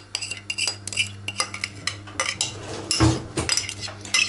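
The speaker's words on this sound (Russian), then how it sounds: "сейчас сразу же буду замешивать тесто. Яйца добавляю" Dough being mixed in a bowl with eggs and sugar, the utensil producing a close run of quick clinks, taps and scrapes against the dish, with no voices.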